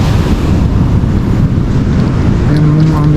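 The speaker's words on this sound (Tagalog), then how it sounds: "lakas ang alon, no?" Strong ocean surf breaking along the Zambales coast, a loud continuous roar of crashing waves mixed with buffeting wind noise on the microphone, close and steady throughout.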